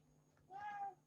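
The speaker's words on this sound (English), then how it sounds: "I'm sorry about my cat." A pet cat gives a single short meow, faint and slightly distant, indoors against a low steady background hum.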